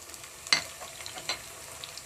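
Cumin and garlic paste sizzles in hot oil over already-fried onions for plain pulao: a soft, steady frying hiss with a couple of sharper crackling pops, close by and with no talking.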